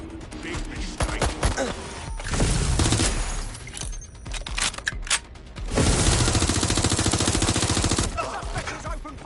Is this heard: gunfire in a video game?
yes